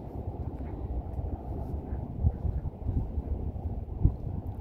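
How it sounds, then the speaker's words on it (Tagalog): Low, gusty seaside wind rumbles and buffets steadily against the microphone on a sunny day, with a couple of stronger gusts and no voices. "Kahit maaraw, malamig-lamig na ang simoy ng hangin."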